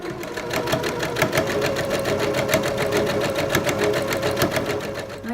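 A domestic sewing machine stitching a pillowcase runs continuously and loudly up close, its rapid needle strokes forming an even mechanical rhythm throughout.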